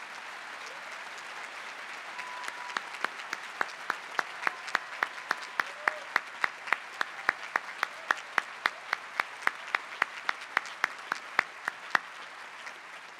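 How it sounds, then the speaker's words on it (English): At a college commencement ceremony, a crowd gives a round of applause heard as sparse, fairly quiet clapping with distinct, evenly spaced claps that continue for over ten seconds. "let's give them all a strong round of applause."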